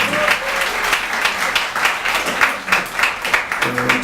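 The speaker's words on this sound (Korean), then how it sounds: "다시 한번 격려의 박수 한번 해주시기" A church congregation applauds steadily at an anniversary worship service, the full-room clapping sustained and dense, with a faint voice coming in near the end.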